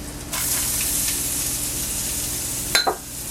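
Sliced yellow onions and garlic sizzle steadily in a hot pan, a continuous bright crackling hiss that holds close and even, with a couple of sharper stir or spatter bursts near the end.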